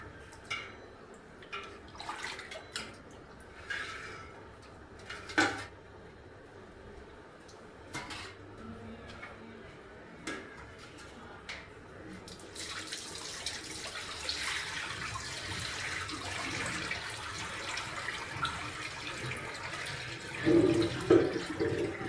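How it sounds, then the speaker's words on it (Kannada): Kitchen sounds of dishes clinking are followed by a long, steady rush of water poured from a vessel through a strainer, close and continuous, ending with a louder gush. "ಈಗ ಈ ಪಾತ್ರೆಯಲ್ಲಿರೋ ನೀರು ಕೂಡ ಸೋಸ್ಕೊತೀನಿ ನಾನು ಸ್ಟ್ರೈನರ್ಲಿ"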